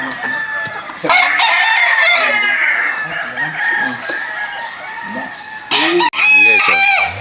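Gamefowl chickens on a gamefarm, with stags and pullets, give repeated loud nearby crowing and clucking, roosters calling over one another throughout, with brief voices in between.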